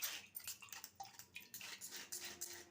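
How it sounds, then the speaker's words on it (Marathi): Ginger juice is strained through a sieve, and thin liquid drips and trickles faintly and unevenly into a vessel, with occasional soft clinks of utensils close by. "आणि परत एकदा चांगलं गाळून घ्यायचं आहे"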